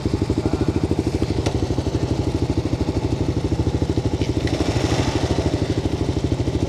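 A Kawasaki KLX250SF motorcycle engine chugs in a steady rapid single-cylinder pulse, loud and close as the bike rides along, with a faint knock or two and no voices.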